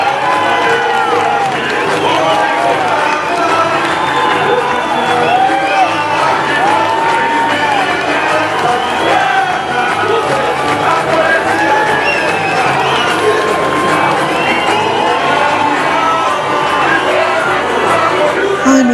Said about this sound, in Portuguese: agora a gente vai curtir o momento da passagem de Marília Pêra com o som do público